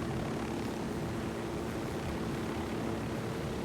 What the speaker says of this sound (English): Amaru didn't get in the friggin' helicopter.